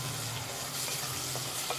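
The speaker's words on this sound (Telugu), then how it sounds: "ఇప్పుడు ఈ ఉల్లిపాయలు కూడా మంచి కలర్ వచ్చేంత వరకు వేయించుకుందాం" Thinly sliced onions and shahi jeera frying in oil in a kadai, a steady, close sizzle with light stirring scrapes, no talking.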